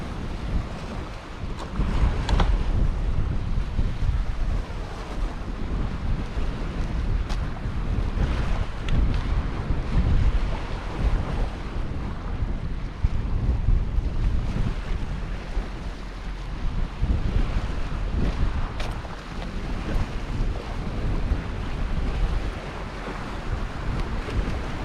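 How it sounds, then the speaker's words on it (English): Strong, steady wind roars and buffets the microphone on the north bank of a river while sea fishing in salt water, a continuous gusting rush with no voices. "wind hasn't slackened"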